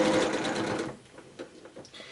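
A sewing machine stitches a string quilt block in a fast, steady whir for about a second, then stops, followed by quiet fabric handling.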